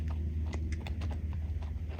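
A rescue horse walks around on a hard surface, its hooves making a steady run of light clip-clop steps at moderate distance over a constant low background hum, with no talk.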